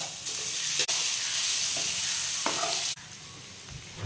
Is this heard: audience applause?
no